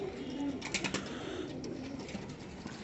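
Fancy English Saddle pigeons coo softly at close range, a few low, rolling calls over a quiet background hum.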